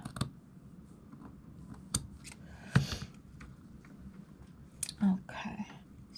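Scissors snip through paper flowers being trimmed for a shabby-style craft journal: a couple of crisp, close cuts stand out over a quiet background of soft rustling and handling.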